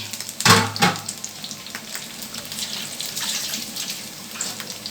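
Masala-coated fish pieces fry in a shallow layer of oil for fish biryani, starting with a loud burst of crackling and sputtering as they go in, then settling into a steady, moderate sizzle that hisses on without any talking.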